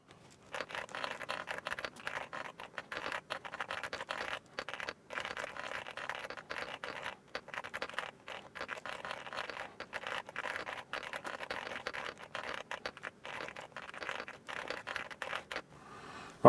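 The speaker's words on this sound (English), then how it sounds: "I'm just going to do a typing test now" Rapid keyboard typing during an online typing test, a steady stream of close, fast clicky keystrokes running almost continuously with a few brief pauses, no talking.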